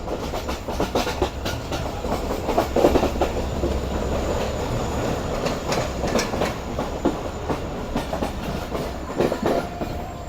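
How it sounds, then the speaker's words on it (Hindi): The Queen of Sindh Sukkur Express, running about four hours late, rolls on its rails toward Rohri Junction, heard from aboard as a loud, continuous rumble with rhythmic clickety-clack of wheels over rail joints. "फाइनली 12:11 पर हमारी ट्रेन तकरीबन 4 घंटे लेट अप्रोच बना रही है रोड़ी जंक्शन रेलवे स्टेशन पर।"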